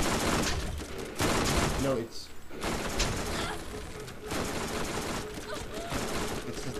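Borderlands weapon fire at range, repeated sharp bursts of shots in clustered volleys broken by a brief lull, with someone speaking briefly between the shots.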